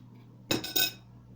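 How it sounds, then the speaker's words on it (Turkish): A knife chops sausage into thin slices on a cutting board, giving two sharp close knocks about a quarter second apart, then quiet. "Bunu da ince şekilde doğrayalım."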